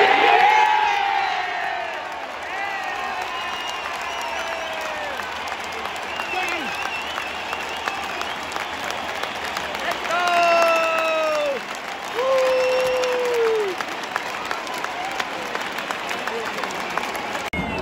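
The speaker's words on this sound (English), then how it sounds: "Doherty scored a goal after having Panther twice, and everyone was clapping" Football crowd at a Carlton versus Richmond match clapping and cheering after a goal by Doherty, a broad sustained wash of applause with rising whoops and shouts, voices calling out over the steady clapping.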